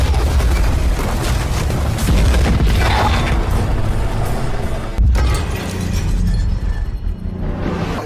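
Soviet and German tanks trade cannon fire in a war film: a loud, dense roar of battle with a sharp booming blast midway, followed by rumbling and clanking machinery, heavy and continuous.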